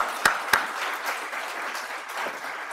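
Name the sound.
applause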